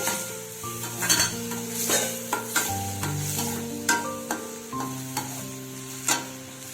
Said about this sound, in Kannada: ಅದು ಈರುಳ್ಳಿದು ಹಸಿ ಸ್ಮೆಲ್ಲೆಲ್ಲ ಹೋಗೋವರೆಗೂ ಹುರ್ಕೋಬೇಕು ಗೋಲ್ಡನ್ ಕಲರ್ ಬರಬೇಕು